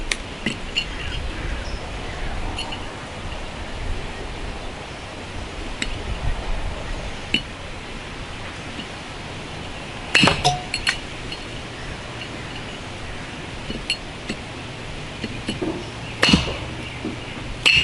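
An Elmax 65RC knife sharpened at 15 dps chops into a 16D nail, giving two sharp, ringing metallic clinks several seconds apart over a quiet, faintly noisy background.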